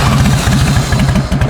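A Harley-Davidson Dyna Low Rider with about 17,841 miles runs loud and close just after firing up, its engine pulsing in an even, lumpy beat throughout.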